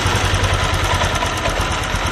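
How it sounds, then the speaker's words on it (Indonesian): A motorcycle engine idles at very low rpm, below about 1000, with its idling-stop system not engaging. It makes a steady, continuous, close-up rumble throughout, with no one speaking. "Ini langsam mesin terlalu rendah, ini pasti di bawah 1000."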